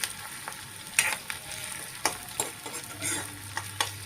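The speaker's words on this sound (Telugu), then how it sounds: "ఉల్లిపాయలు కాసేపు ఇలా ఫ్రై అవనిద్దాం." Onions frying in a pan for tomato curry, with a low steady sizzle broken by a few sharp spatula scrapes and stirs, close and fairly quiet, no voices.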